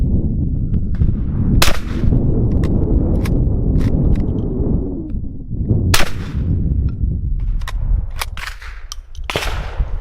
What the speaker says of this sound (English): I'm going to shoot these slugs one more.